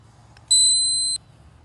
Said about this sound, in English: If you're doing the right follow-through, swing beep will beep.